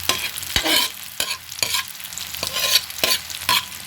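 Smoked tinapa fish fried in oil in a pan and stirred, with a series of distinct scrapes and knocks of the utensil against the pan over a continuous sizzle, close and fairly loud, no talking.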